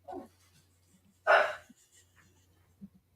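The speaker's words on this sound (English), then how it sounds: "I hear a doggy bark" A dog named Big Shirley gives one loud, sharp bark, preceded by a short softer yelp and followed by quiet breathing and a faint snuffle in an otherwise still room.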